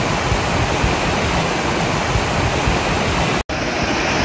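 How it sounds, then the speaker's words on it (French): Waterfall roaring beneath a slatted walkway on the Caminito del Rey, a steady, loud, broadband rush of falling water that fills the whole span, with a brief dropout near the end. "Il y a une super cascade en dessous."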